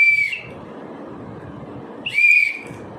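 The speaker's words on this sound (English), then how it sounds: "Now, I'll whistle it." A handheld whistle blown twice in short, shrill blasts about two seconds apart, loud and close, with a quiet murmur of room noise between them and no talking.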